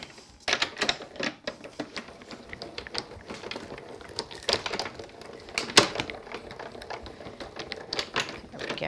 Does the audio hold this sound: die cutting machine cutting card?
yes